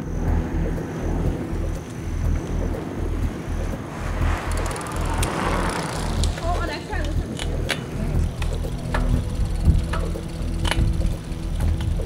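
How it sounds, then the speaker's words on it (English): Bicycles are ridden along a forest path, with chains and gears clicking and ratcheting and frames creaking in an uneven stream, close and moderately loud, while people talk at times. "we kept riding on the bikes"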